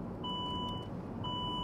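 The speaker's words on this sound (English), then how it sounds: "Now it's demanding to put the seat belts. Otherwise, it's gonna start beeping more." Two steady electronic seat belt warning chimes sound about a second apart, clear over a low engine hum inside a 2009 Saab 9-3 convertible.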